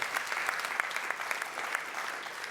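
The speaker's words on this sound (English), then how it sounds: "that's worth a round of applause" Dense, continuous applause from a crowd at a downtown development association annual meeting, many hands clapping at once with a few sharper claps standing out at a steady moderate level.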